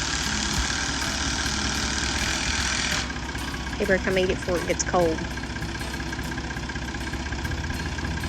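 A farm tractor's engine runs at a steady low idle throughout as it works on raising a shop wall, a continuous rumble beneath a person speaking briefly in the middle.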